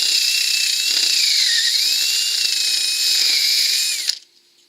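A power drill enlarging a 1/2 inch hole for a storm door latch, whining steadily at high pitch with slight changes in speed as it bites, then stopping abruptly.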